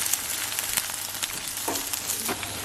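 Egg and cheese being mixed together as they fry in a single pan, a constant close sizzle with a few light scrapes of the utensil against the pan, no talking.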